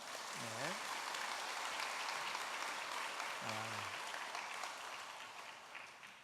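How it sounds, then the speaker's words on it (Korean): A Korean church congregation applauds during a Sunday worship service, a dense, steady wash of clapping that fades slightly toward the end, with a couple of brief voices rising over it. "자, 우리 모두를 위해서 박수 한번 하고"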